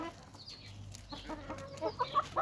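A pet rooster lets out short, throaty clucking calls that grow louder and more broken toward the end, close by over faint background noise.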